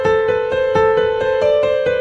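A short right-hand piano melody played quickly, a run of roughly nine crisp single notes in fast, even succession, each note ringing over the last, alone without voices.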